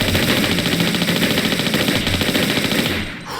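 Rapid, continuous Uzi fire in the video game Tomb Raider IV, loud and close, a dense rattle of shots that runs unbroken for about three seconds before cutting off.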